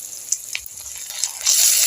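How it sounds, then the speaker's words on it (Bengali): Ginger garlic paste fries in a pan for a lentil and egg dish, a soft close sizzle with a few light crackles that swells into a fuller hiss near the end, with no talking. "আদা রসুন বাটাটাও আমি ভালো মতো ভেজে নেব।"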